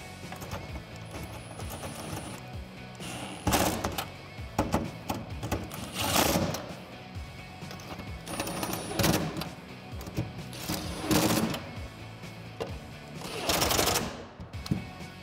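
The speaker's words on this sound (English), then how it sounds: "Then we can tighten everything down with an 11 millimeter socket." An 11 mm socket on a ratchet tightens clamp bolts for a Pace Edwards SwitchBlade retractable bed cover on a 2016-2020 Toyota Tacoma, giving bursts of clicking ratchet strokes between quieter pauses.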